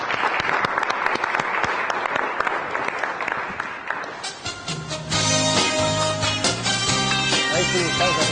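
Audience applause greets a performer and her group at an afternoon show in Brazil, a dense wash of clapping for about four seconds before bright music takes over.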